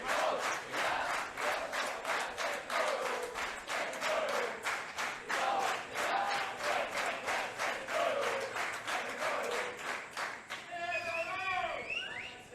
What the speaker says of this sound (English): Heard the applause there from his home supporters.